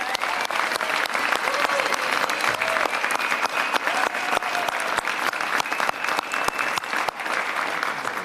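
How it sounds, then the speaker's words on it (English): A large audience claps loudly and without a break at a mayoral education announcement. The dense applause carries on steadily from start to finish. "so I want to give them a big round of applause"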